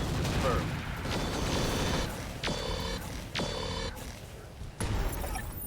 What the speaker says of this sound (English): that's an AC-10 ammo explosion